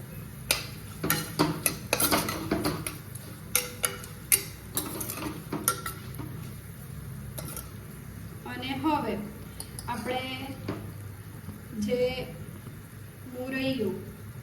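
Metal spoon clinking and scraping against a pot while salt is mixed into samo millet khichdi, a scatter of sharp taps followed by softer stirring swishes, with someone talking throughout.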